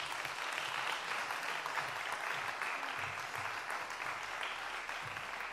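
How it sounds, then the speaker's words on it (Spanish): Steady applause from an audience at a Spanish music awards ceremony, a continuous wash of clapping that holds at an even level throughout, with no talk over it. "Así que un aplauso desde aquí, desde casa, para el capitán del Maquetón, para Salva Ronco."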